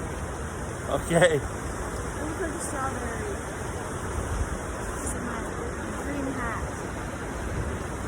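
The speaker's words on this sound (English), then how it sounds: "Apparently this waterfall is a glacier that's melting at the top of the mountain." Takakkaw Falls, a glacier-fed waterfall in Yoho National Park, British Columbia, rushing in drizzly rain as a steady broadband roar from a distance, with a brief spoken word near the start over the constant water noise.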